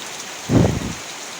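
Steady rain that had been long awaited falls over a village in the Poltava region. A soft constant hiss swells into a brief louder rush near the middle, with no voices.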